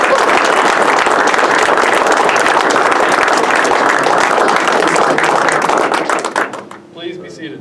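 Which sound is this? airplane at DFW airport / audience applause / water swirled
audience applause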